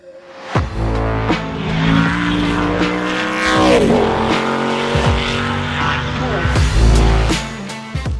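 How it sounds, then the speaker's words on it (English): A Pikes Peak Hill Climb race car roars loud and close for the full eight seconds, its engine revving hard through rising and falling pitch with sharp throttle blips, and tires squeal briefly. "That is his Pikes Peak Hill Climb race car."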